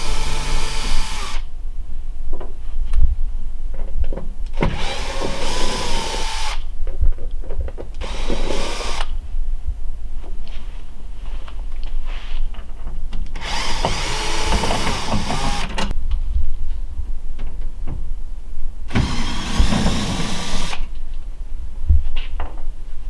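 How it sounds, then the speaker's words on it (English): A power driver with a Phillips bit backs screws out of the lower panel of an Ultra-Aire 90H unit: loud, close whirring bursts several seconds long, repeated with short pauses between, and no talking. "using a Phillips bit, go ahead and remove the 3 Phillips screws down at the bottom here"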